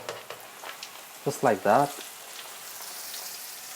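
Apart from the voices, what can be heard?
breaded chicken frying in hot oil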